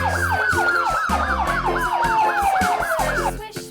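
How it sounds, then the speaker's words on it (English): A cartoon police car siren wails in a fast, steady up-and-down cycle, loud and close, over a bouncy children's song backing with a thumping beat, until it cuts off near the end. "Police car."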